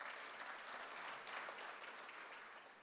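A conference audience at a retail industry event claps, a dense, sustained burst of many hands that stays steady, then tapers slightly toward the end.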